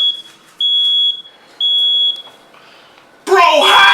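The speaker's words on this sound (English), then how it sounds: "Why is the smoke detector going off?" A household smoke detector in a kitchen where frozen pizza is cooking sounds two long, loud, piercing beeps separated by a short gap, with faint voices underneath, then an excited voice breaks in at the end.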